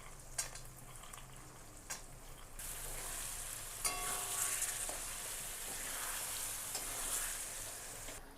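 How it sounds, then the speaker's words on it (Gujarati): Onions, tomatoes, salt and cashews roast in a pan on a gas stove, giving a soft, steady sizzle and hiss that swells partway through, with a few faint clinks of stirring. "આપણા ડુંગળી ટામેટા શેકાઈ જવાય છે."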